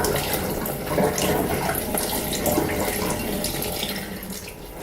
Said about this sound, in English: And I'm literally going to turn the tap on and start looking at the clock.